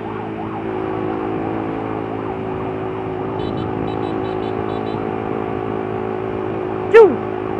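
An ambulance siren wails amid stuck, congested traffic with an escorting motorcycle's engine humming close by. A steady traffic drone runs throughout, and a sharp, brief chirp sounds near the end.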